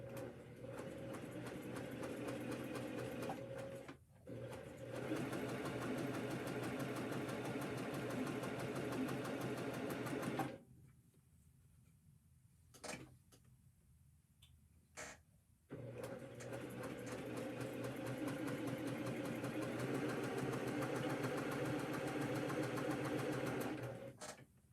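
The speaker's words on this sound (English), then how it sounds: "So we're just gonna sew right on that line." A sewing machine chain-pieces quilt star points, its needle running in a loud, fast, even whir close by, stopping briefly twice, then pausing for several seconds with faint clicks before starting up again.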